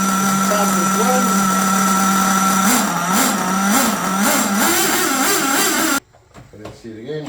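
A warmed-up HPI Savage X 4.6 nitro RC truck engine fitted with an aluminum exhaust runs close by with a loud, high buzzing drone and repeated rising revs, then cuts off abruptly into a few quieter handling sounds.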